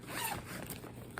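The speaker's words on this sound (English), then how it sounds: "My zipper is sticking a little bit here." A sticking zipper on a bag being pulled, a brief close scratchy rasp with uneven catches over about a second.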